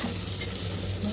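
Sliced onions with spice powder sautéing in a pan give a steady, close sizzle and crackle with faint stirring and no voices, for a brief moment.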